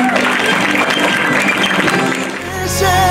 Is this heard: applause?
yes